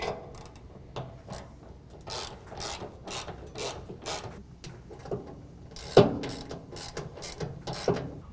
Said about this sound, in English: We're going to go ahead and tighten down our J-hooks on both sides with a 9/16, and then we're going to tighten up our canister bolts with a 3/8.